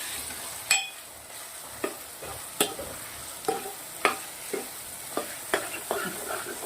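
Cauliflower stirred in a pan with Kashmiri chili, turmeric, salt and spices: sharp spoon scrapes and clinks recur roughly every half-second over a low steady sizzle, close up, with no talking.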